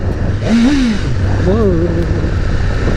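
A BMW S1000RR superbike engine drones steadily while riding, with a rising and falling rev whine and constant wind rumble throughout.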